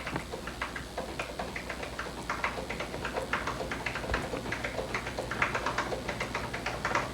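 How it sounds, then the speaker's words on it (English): Typing on a typewriter at a 1987 expo, a steady stream of close, crisp key taps in an irregular rhythm over a low room hum, with no talking. "You like that typewriter at all?"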